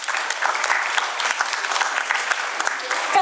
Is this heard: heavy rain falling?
no